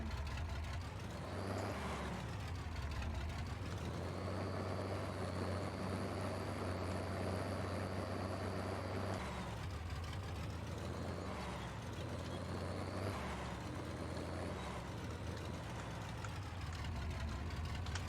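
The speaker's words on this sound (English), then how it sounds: "It feels like they took the sounds from the monster truck in the game and put them on this tractor." A heavy vintage tractor engine in a farming video game drones steadily, revving up and easing down in a few cycles with a low, rumbling tone and no talking.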